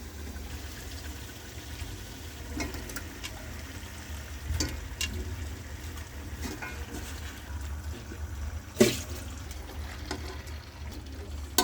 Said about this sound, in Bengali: এবার গোশ দিয়ে দিতে হবে।